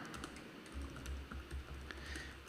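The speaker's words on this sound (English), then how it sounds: "we'll fast forward through me typing all of this" Rapid keystrokes on a computer keyboard while code is entered, a steady stream of quiet, close clicks and taps with no talking.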